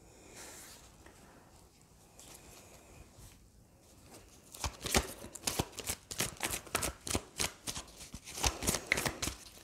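Tarot cards being shuffled, quiet at first, then a fast run of crisp riffling and slapping bursts in the second half, close and fairly loud.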